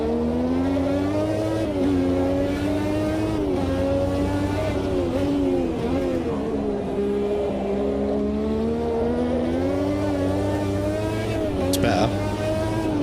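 A 1988 Formula 1 car races round the Montreal circuit in Automobilista 2, its loud, high engine wail climbing and dipping through the gears for the whole stretch while someone talks over it.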